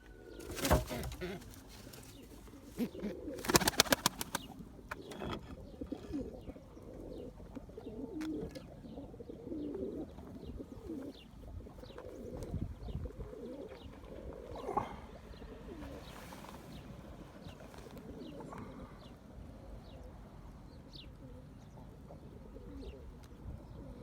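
Pigeons coo softly and repeatedly in a loft, with a flurry of flapping wings near the start and occasional chirps over a quiet, rustling background.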